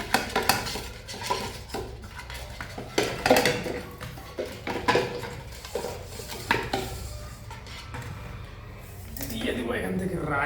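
Ghee being stirred into a chicken biryani pot with metal utensils: repeated clinks and scrapes of spoon against pot in an irregular rhythm, close up, with a voice talking over the clatter.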